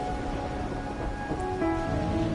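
Steady rain falls in a Wuthering Waves game scene, a dense constant hiss of drops with faint low tonal background music underneath and no speech.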